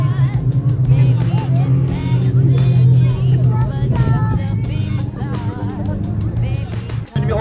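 Rally cars roar around a dirt track at a Marigné-Peuton meeting, a Renault Mégane leading a Clio and a green-and-yellow Peugeot 106, engines droning loud and steady beneath an excited commentator talking throughout.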